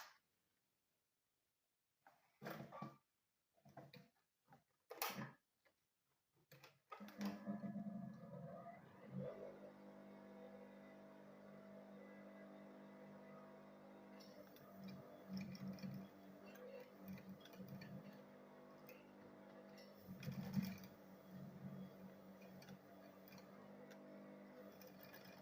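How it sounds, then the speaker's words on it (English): A sewing machine stitches a school bag: a few faint clicks and taps give way to a steady, quiet motor whir that runs continuously with small surges. "Then I'll sew it straight."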